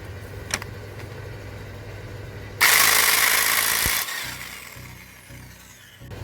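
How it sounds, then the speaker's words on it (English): Electric impact gun loosening the crankshaft pulley bolt on a 2015 VW Passat during a cam and crank oil seal replacement: a loud, dense burst of hammering lasting about a second and a half, with quieter workshop noise before and after. "What we need is the judge, the big massive gun, electric gun."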